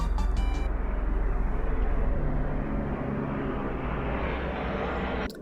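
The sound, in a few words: airplanes passing by overhead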